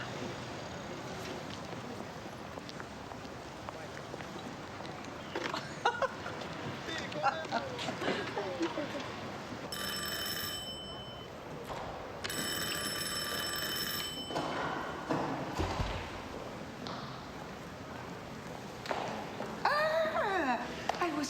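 A doorbell rings in two bell-like bursts of a second or two each, midway through, over steady background noise with voices talking around it.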